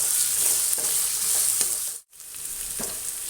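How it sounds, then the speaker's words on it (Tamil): Ginger, garlic and onion frying in a pan for cauliflower rice: a steady, bright sizzle close by with soft stirring scrapes, a brief drop to near silence partway through, then the sizzle returning. "இஞ்சி பூண்டு போடுறேன். வதங்கட்டும். வெங்காயம் போடலாம்."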